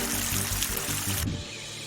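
A flowing stream of water gives a dense, rushing wash of sound that cuts to a quieter, thinner trickle partway through.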